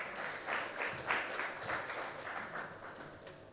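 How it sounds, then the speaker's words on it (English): An audience at a corporate talk on TVS Motor after-sales gives a round of applause, a soft, steady wash of many hands clapping at a distance that slowly thins toward the end. "Please welcome him with a big round of applause."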